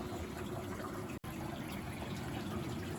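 Steady rushing hot water pours into the drum of a Miele Professional WS5073 washing machine in its main wash phase, a constant broadband gush with one brief dropout partway through.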